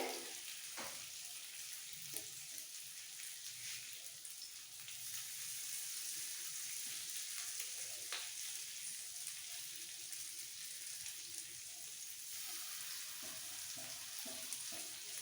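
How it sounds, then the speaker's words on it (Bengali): Parshe fish fry in masala on a tawa with a steady, even hiss of sizzling oil and a few soft spatula scrapes and taps, close up, continuous throughout. "একসাথে সবকটা ফ্রাই হয়ে যাবে"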